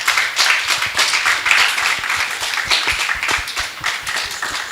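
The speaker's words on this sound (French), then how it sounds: "Alors, est-ce qu'on peut applaudir pour nos panélistes," A small audience claps for panelists on a French-language talk show, close, uneven individual claps forming a lively round of applause that holds steady throughout.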